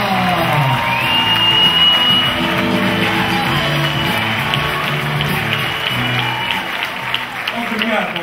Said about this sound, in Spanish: Por isso vamos receber com um grande aplauso.